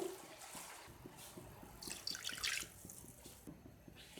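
Two cups of water pour and splash steadily into a cooking pot of browned chicken, with a brighter gush midway and faint clinks and trickling throughout.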